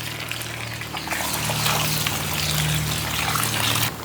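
Tamarind water poured into a cooking pot makes a steady, close trickling gush that lasts several seconds and over a low background hum.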